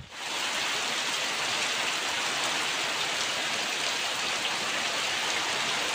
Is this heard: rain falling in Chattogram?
yes